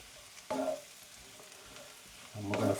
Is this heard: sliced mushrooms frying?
yes